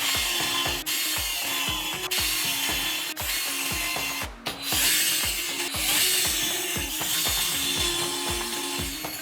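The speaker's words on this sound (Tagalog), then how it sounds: "kailangan muna natin mag-pre-drill ng butas sa plywood gamit ang countersink drill bit" A countersink drill bit bores pilot holes into plywood for a shoe rack build, giving a steady close whir broken by repeated rhythmic ratcheting clicks, with one brief pause partway through and no talking.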